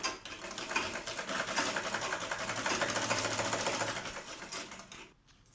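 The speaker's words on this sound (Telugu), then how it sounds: "చివరి వరకు ఇట్లాగే స్ట్రైట్గా స్టిచ్ వేసుకోవాలి." A sewing machine runs a continuous straight seam on a kids' lehenga, its fast, even mechanical chatter close and steady for several seconds before stopping abruptly near the end.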